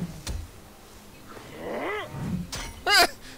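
A cat in Assassin's Creed Origins lets out a sharp yowl and then a louder, strained screech, close and brief against faint game ambience.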